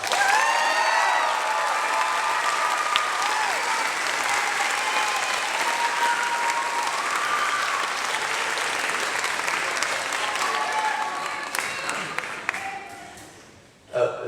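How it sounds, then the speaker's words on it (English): Dense, sustained applause from a large audience for a middle school honors band, steady and loud for most of its length, with voices murmuring faintly underneath before it tapers off at the end. "Let's give them a round of applause"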